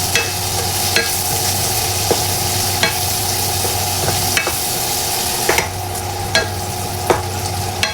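Onion, garlic and ground pork sauté in a pan with a constant loud sizzle, punctuated by sharp, regular clinks and scrapes of a spatula stirring close by.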